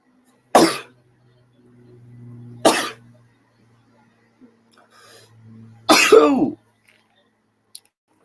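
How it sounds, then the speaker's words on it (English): Three sharp sneezes ring out close by, evenly spaced over several seconds, with quiet pauses between them and faint background hum. "three sneezes"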